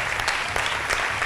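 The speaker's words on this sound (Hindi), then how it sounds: "बहुत सारी तालियां हुज़ैफ़ा के लिए" Studio audience on a Pakistani game show claps for a departing contestant, a short burst of dense, loud applause with no voices over it.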